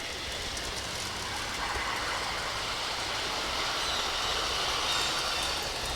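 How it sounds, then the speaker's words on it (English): Steady, continuous rumbling and rattling of two G scale model trains running together on track, a constant mechanical whir with no pauses. "Both my trains are running at the same time."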